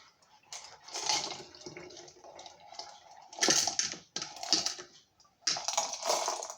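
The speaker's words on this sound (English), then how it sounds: "You can hear our rocks falling out." A rattling, clattering tumble of rocks falling out of a sifter in bursts, with pauses between pours, close and fairly loud.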